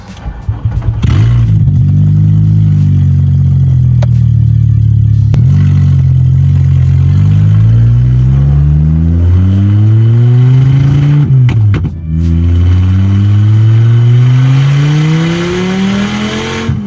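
A Volkswagen Mk2 GTI with a swapped-in 07K five-cylinder engine pulls away on a test drive. The engine note is loud and close, rising steadily through the gears with a brief dip at each shift.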